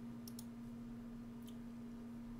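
A few faint computer mouse clicks, two close together and then one more, sound over a steady low electrical hum in a quiet room.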